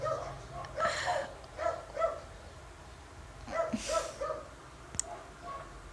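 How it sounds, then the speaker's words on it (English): Several dogs barking nearby in repeated bursts of yips and barks, broken by short pauses. "I don't want to wait for a long time just for these dogs to shut up"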